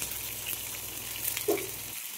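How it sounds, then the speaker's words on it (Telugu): Raw plantains frying in hot oil with curry leaves give a steady, soft sizzle that holds for a couple of seconds, with one brief louder hiss near the middle and no voices. "దాని తర్వాత ఈ అరటికాయలన్నీ వేసుకొని మంచిగా ఫ్రై చేసుకోవాలి వాటిని"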